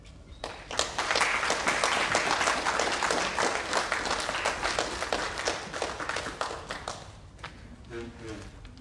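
Audience applause after a talk on Barbadian genealogy and heritage tourism, a sustained dense round of clapping that fades out near the end, with faint voices.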